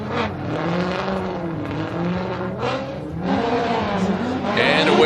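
Formula Drift cars at the Orlando Top 16 launching from the start line, engines revving hard in rising and falling surges with pitch sweeps as they pull away, loud and close with a commentator talking over them.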